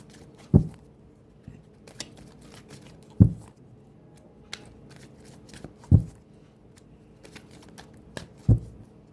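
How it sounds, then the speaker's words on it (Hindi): Tarot cards shuffled by hand in four short, crisp riffling bursts spaced evenly a few seconds apart, each close and fairly loud, with near silence between them and no voices. "कार्ड्स की शफलिंग के दौरान"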